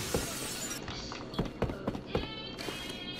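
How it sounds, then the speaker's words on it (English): Glass breaks in a string of sharp crashes and clinks. Several separate impacts land over a few seconds at close range, with no clear talk. "Glass yeah, breaking."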